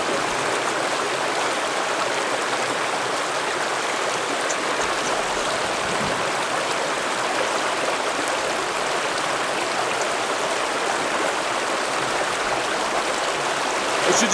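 A river in the Gila Wilderness of New Mexico rushes steadily and loudly, a constant broadband roar of flowing water with no pauses.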